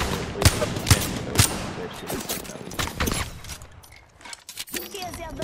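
Rapid gunshots in a shooting video game, a few loud cracks early on and then scattered bursts, with someone speaking over the action.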